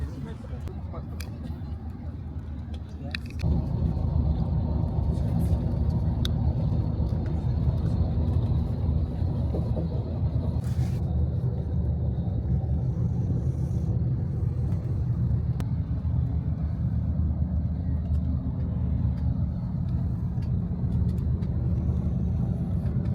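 Flixbus coach engine running at the French-Italian border: after a few quiet seconds a steady low diesel rumble starts and holds evenly, with a few faint knocks and clatters over it.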